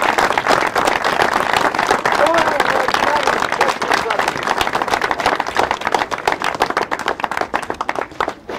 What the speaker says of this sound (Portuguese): uma salva de palmas para o Ticel, se faz favor.